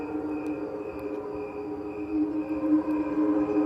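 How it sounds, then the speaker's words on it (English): Slowed-down cricket chirps form a hazy, sustained hum of overlapping tones. The sound is steady and soft, with faint pulses and no voice. "These cricket chirps have been slowed down, revealing their real tune."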